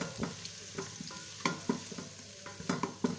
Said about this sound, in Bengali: দিয়ে দিলাম দুই তিনটে তেজপাতা দুই তিনটে এলাচ দারচিনি দিয়ে পেঁয়াজটাকে ভেজে নেব